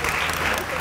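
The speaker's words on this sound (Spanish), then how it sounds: "Un aplauso para Javier y Pilar, por favor" Audience applause on a Spanish-language show, a steady dense wash of clapping filling the whole short moment, with faint voices mixed underneath.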